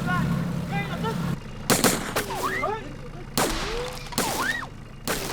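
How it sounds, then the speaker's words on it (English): Several loud gunshots crack out in separate bursts amid shouting voices, with engine noise and a tense outdoor scene underneath. "even the shooting didn't scare me"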